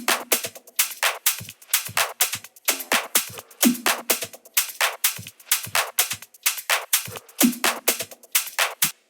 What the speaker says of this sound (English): So altogether, the drums and percussion sound like this.